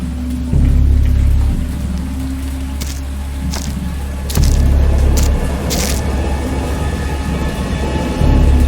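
A thunderstorm in a horror game based on Lovecraft's Dagon: steady heavy rain hisses throughout while deep, loud rumbles of thunder roll in three times at roughly regular intervals.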